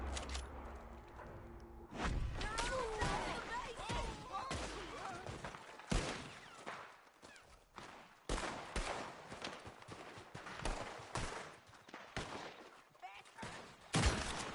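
Gunfire in Red Dead Redemption 2 during a robbery shootout, a string of sharp loud shots at uneven intervals, some in quick clusters, with voices talking underneath.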